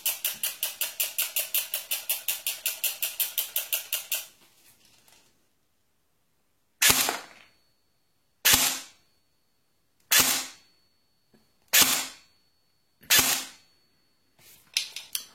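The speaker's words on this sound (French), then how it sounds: "au bout de 5 tirs, vous voyez, il n'y a plus de billes." An airsoft B416B bolt-action rifle shooting at 350 fps fires five sharp, loud single shots spaced a second or two apart, preceded by a fast rhythmic ratcheting click sequence and then near silence.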